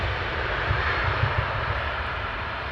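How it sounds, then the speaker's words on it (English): A passenger aircraft passes at London Heathrow Airport, a steady broadband engine roar that holds at a constant, fairly loud level for the whole stretch, with no talk. "So that's your last aircraft, just gone past your screen."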